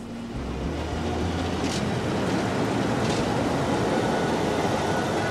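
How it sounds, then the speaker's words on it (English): A steady, loud rumble of a train in Portugal rolling along the rails as it gradually picks up speed, continuous and building slightly in intensity throughout, with no voices. "The train gradually comes up to speed"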